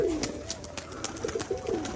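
Pigeons coo in a loft in Rajshahi, Bangladesh, with several short, fairly close coos over a steady background hiss and no talking.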